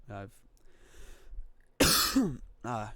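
A close, harsh cough bursts out between short vocal sounds, followed by a voiced throat noise.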